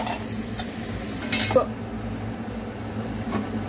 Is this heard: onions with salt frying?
yes